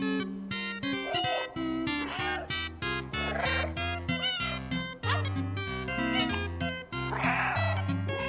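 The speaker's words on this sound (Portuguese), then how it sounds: "Vamos fazer o gato cantar." Cat meows in the video game Stray blend into a melodic, musical sequence, repeated mewing notes layered over a steady backing rhythm, loud and continuous.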